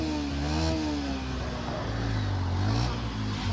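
A vehicle's engine runs loud and close after starting, revving with a steady droning hum that swells and eases over a few seconds, without talking.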